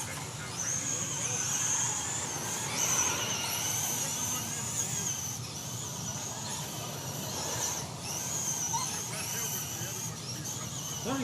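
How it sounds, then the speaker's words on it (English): 12-turn RC cars racing at an outdoor RC park, their high, whining motors buzzing steadily and swelling as they pass, under continuous race commentary from a nearby announcer. "12 turn race going on right now."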